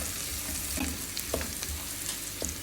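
Garlic frying on full heat for a vegetable spaghetti, a dense steady sizzle with a few light scrapes of stirring, close and loud with no voices.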